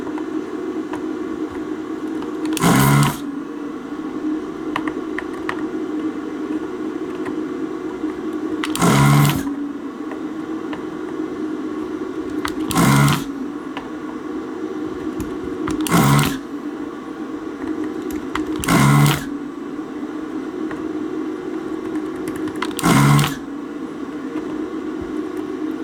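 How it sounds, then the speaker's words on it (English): A desoldering gun sucks solder from the pins of an old switch on a Sega Mega Drive board, with six short, loud bursts of suction at irregular intervals over a steady motor hum and no talking. "I'm going to use my desolder gun"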